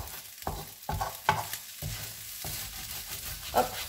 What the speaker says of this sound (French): avec la cuillère en bois, vous raclez bien le fond